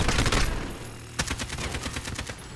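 Turret gunfire in a co-op video game, rapid loud bursts of automatic shots in two runs separated by a short pause.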